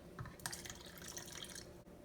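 Water poured into Ziyad brand falafel mix at home, producing a short bright splashing and trickling that runs for about a second and a half before stopping, close up with no talk.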